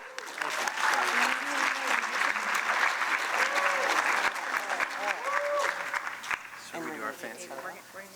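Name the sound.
audience applause at an awards ceremony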